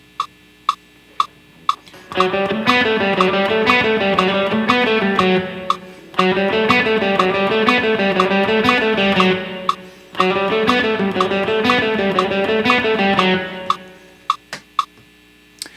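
A distorted electric guitar plays a repeating triplet phrase in three bursts separated by short pauses, while a steady metronome clicks throughout at 120.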